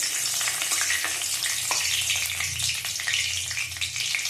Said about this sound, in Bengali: তেজপাতা ফোড়ন দিয়ে দিলাম